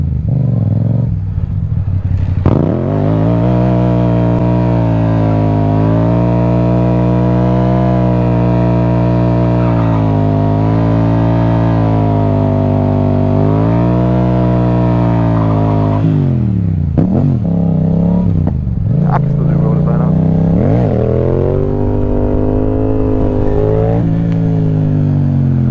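A Yamaha MT-07 motorcycle engine revs hard and holds a loud, steady, droning high note for long stretches during a wheelie, then drops back and gives several shorter throttle blips and re-revs near the end, up close with no talking.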